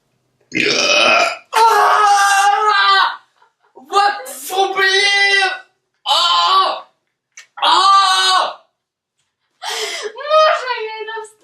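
A person, apparently a child or young performer, lets out a series of long, loud, deliberate burps, about five drawn-out belches separated by short pauses, close to the microphone.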